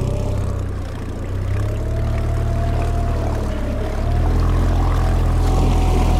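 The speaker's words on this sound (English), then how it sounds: "All right, so I'm gonna give it a little bit of gas." A Wright Water 12 skiff's outboard motor revs up and accelerates, a steady, loud droning hum that climbs in pitch and grows louder partway through, with water rushing under the hull.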